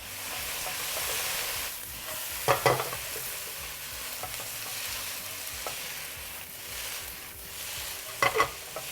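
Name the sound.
stir-frying rice noodles with oyster sauce and soy sauces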